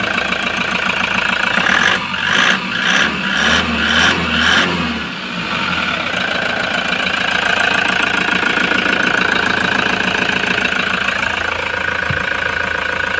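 An engine starts and runs at a steady idle just after fuel injector cleaning and installation. The sound is loud, continuous and close, with a rhythmic ticking near the start, and no one speaks.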